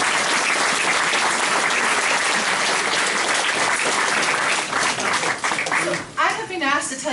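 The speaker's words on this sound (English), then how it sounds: "I think a great big clap." Dense, sustained applause from an audience at a community choir concert fills the space as a loud, continuous wash of many hands, tapering near the end as a voice begins speaking.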